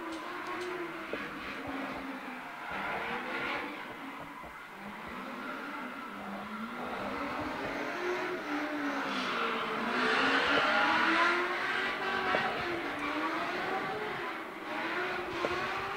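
A V8-powered Nissan S15 drift car on a qualifying run at Baypark Stadium, engine roaring and revving continuously with rising and falling pitch, tires squealing as it holds angle, loud and sustained throughout.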